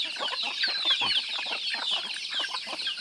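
Chickens clucking steadily at a hill-tribe village clearing, a dense run of overlapping clucks and chatter carrying on through the whole stretch at moderate distance.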